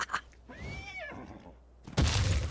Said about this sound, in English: I have a fucking horse.